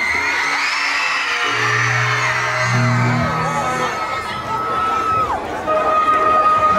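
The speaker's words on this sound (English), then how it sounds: "let me hear y'all scream up from the top of y'all lungs" School students at a community charter school tour event scream, cheer and whoop together as a loud crowd, rising in waves alongside music and an amplified voice.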